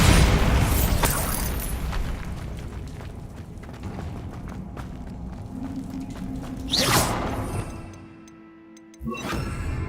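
Bombarda spell explosion from Hogwarts Legacy, heard as a loud, rumbling blast with crashing, creaking debris that fades, followed by a second sharp burst near the end.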